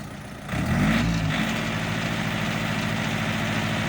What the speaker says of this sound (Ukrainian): Запускай фрезу. Дай газу.